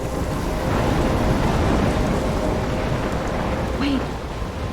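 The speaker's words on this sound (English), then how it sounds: "I'm trapped in a storm?" A continuous, loud roar of heavy rain and rumbling wind from a thunderstorm in the video game Life is Strange, steady throughout with no talking.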